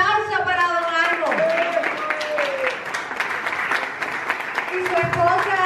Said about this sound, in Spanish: Un aplauso para don Arno